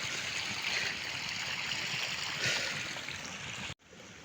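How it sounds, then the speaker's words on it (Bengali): Irrigation water pours steadily into a farm field on a foggy morning, a continuous close rush and trickle that holds evenly before cutting off abruptly near the end. "এখন এই খেতে নামতেছে পানি"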